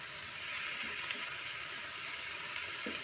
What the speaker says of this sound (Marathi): हे सगळे घालून परतून घ्यायचे